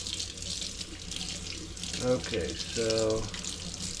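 Water runs steadily from a kitchen tap while sourdough dough is being made, a close, continuous hiss under the whole clip, with brief speech in the middle.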